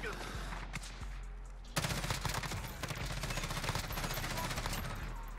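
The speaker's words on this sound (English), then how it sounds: "we're just getting smacked by snipers right now" Call of Duty gunfire, a few quiet isolated shots followed by a sudden loud, sustained burst of rapid automatic fire.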